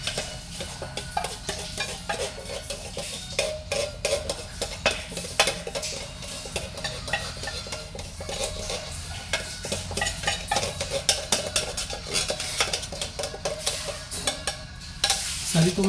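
Ingredients stirred and mixed in a frying pan, a utensil scraping and clinking against the metal in a steady busy rhythm over a constant sizzle, close and moderately loud throughout.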